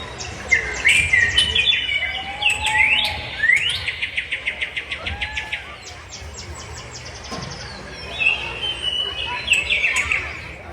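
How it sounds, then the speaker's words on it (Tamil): Several birds sing and chirp at once in a forest, with varied whistles, trills and a rapid repeated call, fairly close and continuous. "நிறைய பறவைகளின் சத்தம் கேக்குது"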